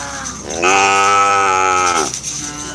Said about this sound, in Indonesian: Ini ada anak sapi,